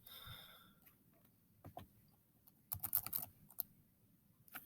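Faint, sparse keystrokes on a computer keyboard, a few scattered taps over quiet room noise, with a short cluster of sharper clicks toward the end.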